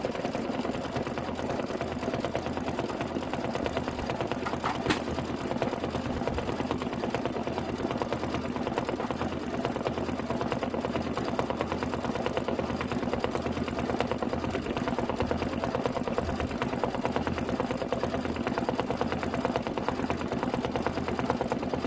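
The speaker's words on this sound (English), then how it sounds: "This is 3 minutes of stitching." A computerized embroidery machine stitches a quilted pillow block design, producing a steady, continuous mechanical whirr and rapid needle chatter at an even level throughout, with no voices.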